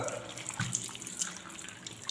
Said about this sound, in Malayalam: കയ്യിൽ ഗ്ലൗസ് ഇട്ടതിന് ശേഷം വെള്ളം തുറക്കുക